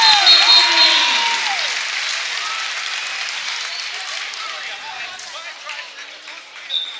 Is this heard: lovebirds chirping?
no